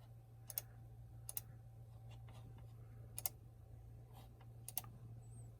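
Mouse clicks while printing a shipping label on Stamps.com: several faint, crisp clicks spaced irregularly in a quiet room with a steady low hum underneath.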